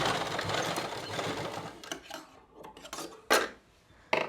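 A sewing machine stitches about an inch along a palazzo pant pocket, a dense steady run of needle clatter that breaks off partway, leaving a few scattered handling clicks and rustles close by.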